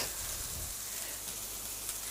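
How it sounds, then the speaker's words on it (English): Food frying in a pan on a home cooking show, heard as a steady, close hiss and crackle of sizzling that continues without a break, with no talking. "you can hear them sizzling"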